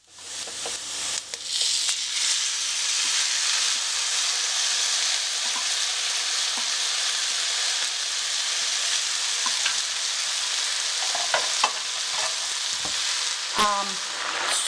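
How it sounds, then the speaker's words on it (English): Rice fries in a hot pan for Mexican red rice, giving a steady loud sizzle that runs unbroken throughout, with occasional light scrapes and clinks of stirring. "you can see the color of the rice is changing. It's getting fried beautifully"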